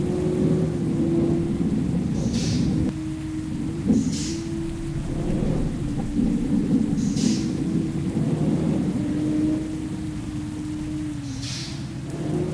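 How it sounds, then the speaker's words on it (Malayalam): Rain and thunder in the video game Bus Simulator Indonesia form a steady downpour wash with low rumbles, over a constant droning hum and a few soft swishes, with no voices. "ഇപ്പം മഴയാട്ടോ."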